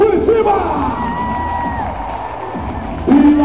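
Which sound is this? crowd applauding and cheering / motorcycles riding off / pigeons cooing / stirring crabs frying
crowd applauding and cheering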